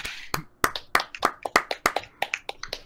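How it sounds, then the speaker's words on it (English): A few people clap in a brisk, steady rhythm, about a dozen distinct claps, close and moderately loud. "Let's give a round of applause for that."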